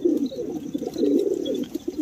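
Several pigeons, back in their keeper's loft, coo in low, rolling, overlapping phrases, close and fairly loud, with faint chirps above them.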